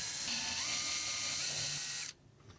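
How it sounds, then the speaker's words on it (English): Power screwdriver whirring steadily as it backs out two Phillips screws holding the temperature sensor thermistor on a Samsung washer, a continuous buzzing mechanism that cuts off abruptly near the end. "Now, remove the two Phillips screws."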